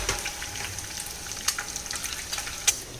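Boiled eggs fry in hot oil with a soft, steady sizzle, broken by scattered crackles and a few sharper pops, heard up close.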